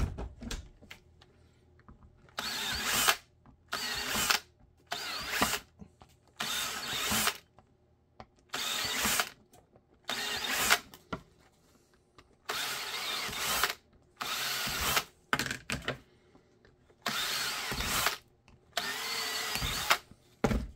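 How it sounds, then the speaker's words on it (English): Power drill boring holes into a new compression mold, in repeated short bursts of whirring separated by brief quiet pauses, close and fairly loud. "So, I'm going to drill everything out, then I'm going to buff it."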